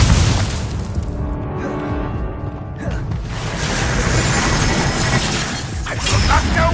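Incendio fire spell cast in the video game Hogwarts Legacy: a loud, dense whooshing burst with crackling, shattering texture that swells midway and continues roaring, amid battle noise.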